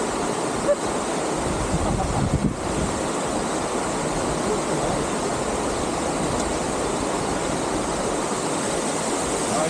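River water rushes steadily near Dick's Creek Falls in Clayton, Georgia, a constant, close, full-bodied roar with light wind buffeting the microphone and no talking.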